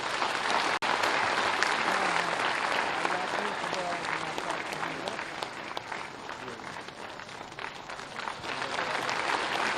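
A crowd applauds continuously at a project launch event in Lucknow, Uttar Pradesh, dense clapping filling the whole stretch at steady loudness, with a sharp click near the start.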